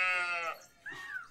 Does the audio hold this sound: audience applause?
no